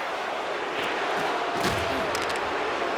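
Home crowd noise in an NHL 26 hockey video game at Ball Arena, a dense continuous roar that holds steady throughout with a few faint thuds, no voices on top.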